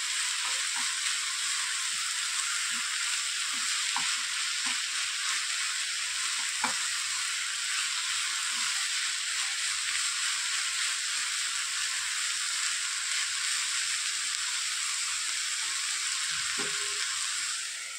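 Moringa leaves cooking in a covered pan over a low gas flame, a constant even sizzle with faint occasional ticks, steady and unbroken.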